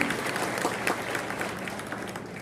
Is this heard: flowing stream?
no